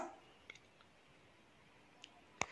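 A computer mouse clicks on a website button, giving a few faint, sharp clicks spread apart in an otherwise very quiet room.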